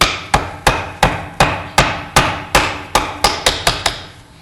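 A mortise chisel is struck repeatedly with a mallet while cutting into wood, about a dozen sharp, loud, evenly spaced blows, close and without talk.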